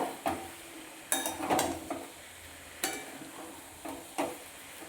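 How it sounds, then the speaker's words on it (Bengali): Spices are fried together in a pan for a vegetarian jackfruit curry, with a spoon scraping and stirring in several short, close bursts over a faint, low sizzle. "তো সব কিছু মশলাগুলো ভালো করে একসাথে ভেজে নিচ্ছি ভালো করে।"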